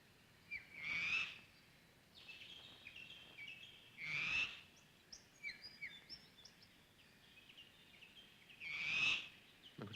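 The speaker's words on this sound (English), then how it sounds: "there's a strange calling goes on from the males, churring and clicking and whirring sounds" Male bowerbird giving odd churring, clicking and whirring calls, faint and outdoors, in three main bursts a few seconds apart with scattered softer clicks between.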